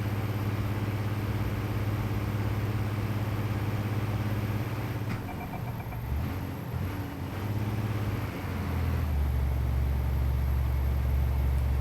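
A Scania truck engine in Euro Truck Simulator 2 with the EVR sound mod, a deep, loud, steady drone that dips and wavers mid-way, like a gear change, then settles back into a strong sustained rumble.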